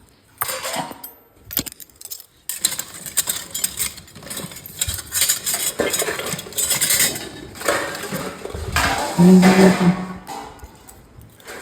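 Dishes and spoons clatter and clink in a run of irregular metallic knocks and rattles as freshly cooked Maggi noodles are served, with a few louder bursts near the end and no talking.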